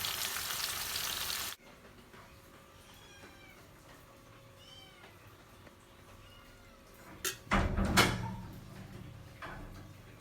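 Meat frying in a pan for a masala sizzles loudly for about a second and a half, then cuts off. A cat meows softly over a quiet room, followed by a brief clatter of kitchen noise.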